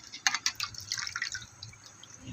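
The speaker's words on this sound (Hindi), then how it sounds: "इमली को अच्छे से निचोड़ के इमली का पानी निकाल देना है" Tamarind being squeezed by hand, its water dripping and trickling out in a quick run of soft wet splashes that fade into a light steady trickle, close and fairly quiet.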